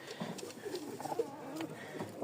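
A pair of nesting pigeons, a yellow male and a female sitting on eggs, cooing faintly and repeatedly at close range with no talk.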